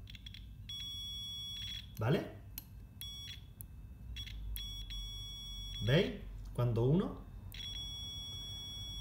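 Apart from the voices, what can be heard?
multimeter continuity test beep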